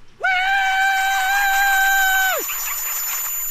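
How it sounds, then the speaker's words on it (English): The Cheat, a small creature from the Strong Bad video game, gives one long, steady, shrill scream lasting about two seconds that drops off sharply at the end, loud and alone with no talking over it. "Hey, the cheat, why don't you give us a good scream?"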